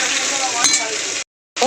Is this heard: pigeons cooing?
no